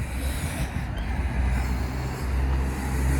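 Steady road traffic rumbles nearby, with cars passing in a continuous low wash of engine and tyre noise.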